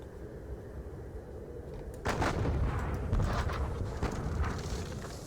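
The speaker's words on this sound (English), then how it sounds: "These guns are going to go straight on these poor chaps." Artillery pieces fire in the Napoleonic wargame Battle of Eylau, with booming reports breaking over a low, steady background rumble about two seconds in and echoing heavily through the rest.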